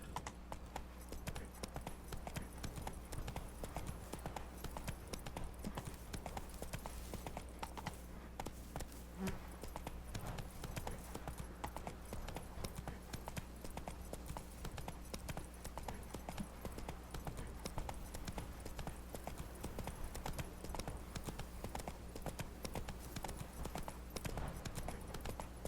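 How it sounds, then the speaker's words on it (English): Horse hooves clip-clopping in The Witcher 3: Blood and Wine, a steady rhythmic trot running throughout the clip under a constant low in-game ambient hum, with no talk over it. "Gotta call the horse."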